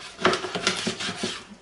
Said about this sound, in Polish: karpia pokroimy na kawałki